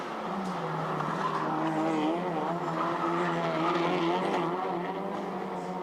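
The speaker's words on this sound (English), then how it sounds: "you can hear these Nissan engines revving up and down as they hit the bumps in the braking" Nissan-powered race cars at the Grand Prix de Trois-Rivieres street circuit rev up and down as they hit braking bumps, a continuous loud wavering engine howl with tire squeal.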